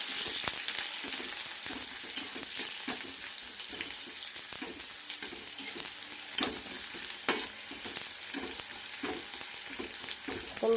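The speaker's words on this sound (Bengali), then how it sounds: "এবার আমি তেলে পেঁয়াজ কুচি দেব দেখুন বন্ধুরা পেঁয়াজটা লাল লাল করে ভাজতে হবে সুন্দর করে" Chopped onion sizzles steadily in hot oil after dried chillies, a constant crackling hiss with occasional stirring clinks and louder pops, no talking.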